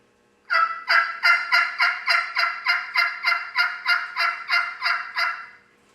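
A wild turkey yelp imitated on a mouth call: a steady run of about thirteen evenly spaced, raspy yelps, loud and close, sped up toward a rasp at the end, with no talking.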